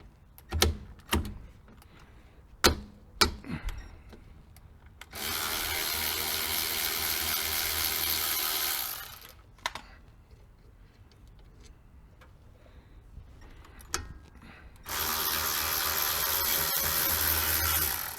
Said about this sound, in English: Using a 14mm socket, I'm going to take off this bolt on the caliper